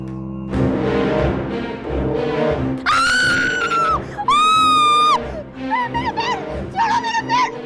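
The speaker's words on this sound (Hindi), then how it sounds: "तुम इस तरह क्यों चिल्ला रही हो?" In a horror drama, a woman screams piercingly in long rising and falling wails after the lights go out, loud and close, with frantic voices and dramatic sound around her.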